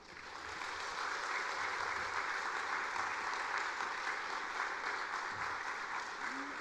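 A church congregation applauds to welcome a preacher at an autumn Bible gathering in Korea, dense sustained clapping that starts quickly and holds steady for several seconds, filling the room.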